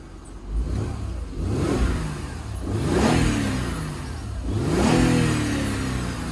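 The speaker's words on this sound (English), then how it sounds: "it definitely sounds like a V6" A 2010 Mercedes E350 coupe with a V6 engine and dual exhaust revs up three times in succession, each rise loud and close, sweeping up in pitch and falling back, with no talk.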